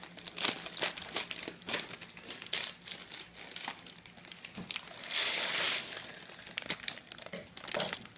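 A plastic package of Velveeta Southwest Diced cheesy potatoes crinkles and rustles close by as scissors cut it open, with sharp crackles in irregular bursts and one longer crumpling stretch.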